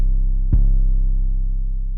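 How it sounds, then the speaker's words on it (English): A single Spins 808 bass note with added Fruity Distortion: one deep, gritty, sustained boom that hits once and rings on at a steady level, alone and loud. "there's an 808 called the Spins 808"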